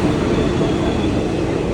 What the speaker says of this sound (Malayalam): അങ്ങനെ നമ്മളെ ട്രെയിൻ വന്നേക്കുന്നേ.